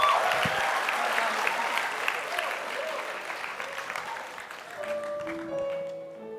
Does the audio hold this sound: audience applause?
yes